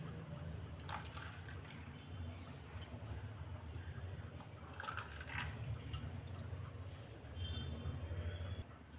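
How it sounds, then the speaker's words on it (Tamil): Watermelon juice poured into an ice lolly mold, a steady close trickling and dribbling of liquid with faint drips, continuous and fairly quiet throughout. "இப்போ இந்த மோல்டில் நம்ம வாட்டர்மெலன் ஜூஸை ஊற்றிடலாம்."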